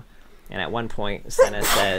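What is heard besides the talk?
sneeze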